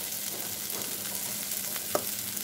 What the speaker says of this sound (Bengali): এখানে হচ্ছে অল্প একটু আলু আর পেঁয়াজ ভাজতে দিয়েছি